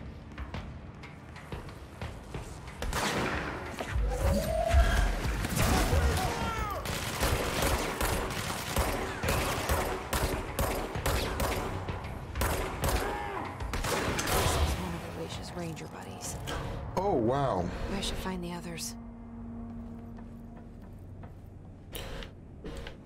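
Bursts of gunfire from the video game Control crackle through a busy, dense mix of game effects and ambient noise, repeated shots clustering over much of the span before thinning toward the end.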